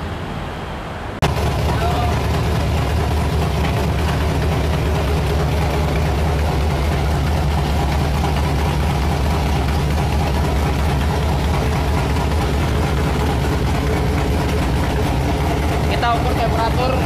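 A V8 engine in a muscle car starts up and settles into a steady, low, rumbling idle that continues evenly and nearby, with people talking over it.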